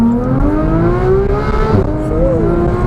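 A 2015 Porsche 911 GT3 (991.1) driven hard through a track corner, its engine note steady and loud from inside the car, with pitch rising and sweeping as it holds speed through the bend.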